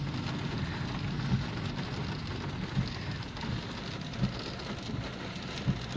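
Steady, dense rain pouring down in a downpour in Ryazan, a constant broadband hiss with a few soft thumps, no voices.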